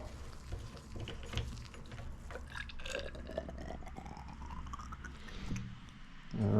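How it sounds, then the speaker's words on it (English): Oil draining and dripping out of a Rockshox Charger 2.0 mountain bike fork damper after its seal head is unthreaded, a steady close trickling with small drips and wet splashes, with a louder handling clunk at the very end. "there might be some oil coming out. Let it drain out."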